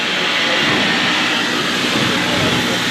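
Retro train running loudly on the Osielec-Chabówka line, heard from onboard as a dense, continuous rumbling roar with no pauses.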